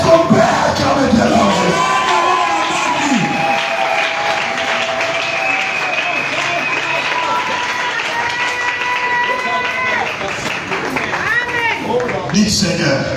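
A church congregation in Kinshasa cheers and applauds during a worship service, a dense crowd roar of clapping and voices with shouted tones rising over it, loud and sustained.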